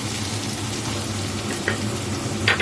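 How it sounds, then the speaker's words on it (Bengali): Tomato and green chili frying in a pan for a vegetarian curry, giving a soft continuous sizzle with a few small clatters near the end and no talking. "টমেটোটা আর লঙ্কাটা দিয়ে দিয়েছি। দিয়ে এই যে একটু ভাজছি।"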